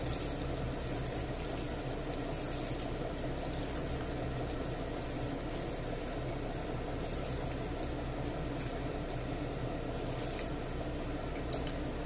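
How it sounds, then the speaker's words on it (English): A continuous wash of running water, about half a litre, pours steadily into a pot, even and close, with a small clink near the end. "And I'll just add the water as well."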